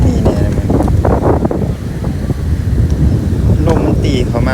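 Wind gusts buffet the microphone on Laem Phaen beach, a steady low roar with surf-like rushing underneath, loud and close throughout, with voices faintly mixed in.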